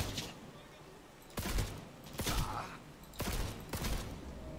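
Gunfire in the video game Cyberpunk 2077, aimed at the player: several bursts of rapid shots come in separate waves with short gaps between them, loud against a steady background hum.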